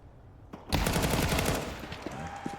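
Pistol gunshots during a Counter-Strike match, a close burst of rapid sharp shots in quick succession after a brief quiet start, followed by a few scattered later cracks.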